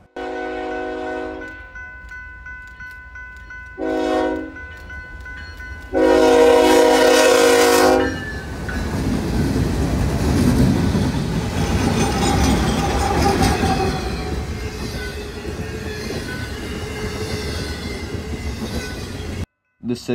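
A BNSF eastbound freight train sounds several horn blasts at close range in a blizzard on the Chillicothe Subdivision, then passes with a long, loud rumble and rattle of wagons and wheels that fades toward the end.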